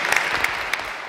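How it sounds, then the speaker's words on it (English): Audience applause at a wine bloggers conference, a steady wash of many hands clapping close together with a few sharper claps standing out, filling the short moment without any talk over it. "you can clap louder than that, people"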